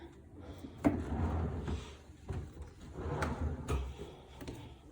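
A drawer in a cruise ship cabin slides open and shut a few times in a quiet room, with wooden thumps and rattling bumps at each movement.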